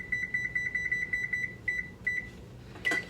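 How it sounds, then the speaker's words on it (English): A kitchen timer set while chocolate banana cupcakes bake gives a run of quick, bright electronic beeps in an even rhythm, pauses briefly, then sounds a few more beeps, close and clear over a quiet room. "Set the timer."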